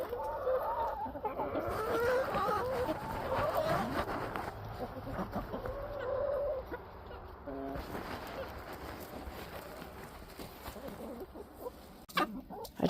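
Backyard chickens cluck and murmur softly while pecking at a dry whole treat on a winter farm, a steady close chorus of low calls with occasional scratching, and a person talking over them.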